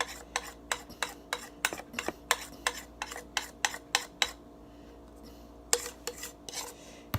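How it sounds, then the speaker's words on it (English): Sugar and baking powder being mixed in a bowl for chin chin dough, with a string of sharp, fairly close clinks and scrapes as the utensil strikes the bowl, a short pause, then a few more strokes. "We first of all mix the dry one, like put on our sugar and baking powder together."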